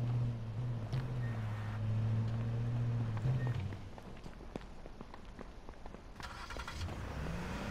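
A car driving in the video game H1Z1, its engine droning low and steady for several seconds before easing off, with scattered game noises and footsteps around it.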